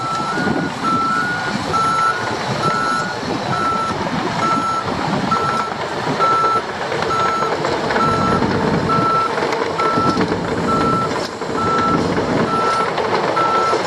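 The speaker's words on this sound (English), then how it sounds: "Bulldozer" A bulldozer reverses at a rain-soaked construction site, its backup alarm pulsing in a steady, evenly spaced beep over a loud rumbling diesel engine throughout.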